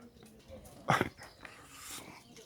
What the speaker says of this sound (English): Look at the size of that dog.